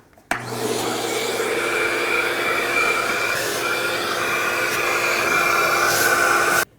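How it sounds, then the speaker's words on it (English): A vacuum cleaner switches on abruptly and runs with a steady loud whine and hiss while cleaning around the spark plug holes of a 2004-2010 Toyota Highlander engine, then cuts off at the end. "use a vacuum and vacuum at the same time, which is what I'm going to do"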